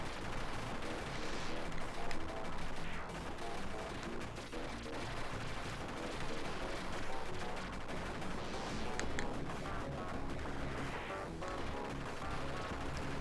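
Continuous dense gunfire and explosive blasts from the Mega Drive shooter game Ultracore, a loud, busy wash of rapid shots and crashing impacts running unbroken throughout.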